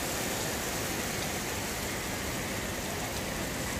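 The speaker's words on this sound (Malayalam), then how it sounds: "നല്ല അടിപൊളി മഴയാണ് കേട്ടോ." Heavy rain falls on a rainy day in the UAE as a dense, unbroken hiss at moderate level, with no voices or other sounds.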